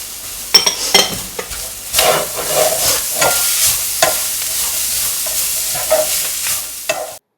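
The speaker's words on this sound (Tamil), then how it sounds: "இப்போ நம்ம எல்லா பொடியையும் வரிசையாக போட போகிறோம். துருவின கேரட்," Grated carrot with spice powders for samosa filling stir-fried in a pan, steady sizzling with repeated scraping stirs of a spoon, close and clear.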